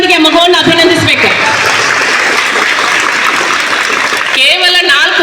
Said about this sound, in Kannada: ಜೋರಾದ ಚಪ್ಪಾಳೆಯೊಂದಿಗೆ ಮಗುವನ್ನು ಅಭಿನಂದಿಸಬೇಕು